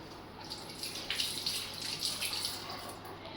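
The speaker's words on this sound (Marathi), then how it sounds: "थांब धुवून घे असंच नाही खायचं" A kitchen tap runs steadily while tomatoes are rinsed under it, a soft, continuous splashing hiss at moderate distance.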